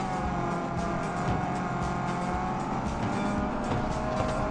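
Racing cars in the Real Racing video game, played on a T10 Pro TV box: a steady, loud engine drone with tyre noise running continuously and alone.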